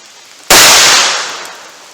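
One loud, sharp gunshot from a .38 Special firing a Winchester Silver Tip round into wood outdoors, with a sudden crack and a short decaying tail.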